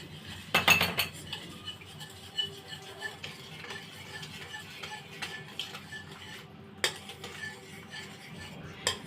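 A spoon mixes raw mango ice cream ingredients with roasted cumin powder and mint paste in a bowl, opening with a loud clatter, then repeated light clinks and scrapes at an irregular pace.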